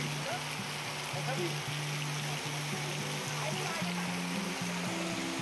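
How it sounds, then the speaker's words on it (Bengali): Soft, steady patter of light monsoon drizzle, a continuous gentle hiss with no distinct drops standing out. "এখনও ঝিরঝির করে বৃষ্টি পড়ছে"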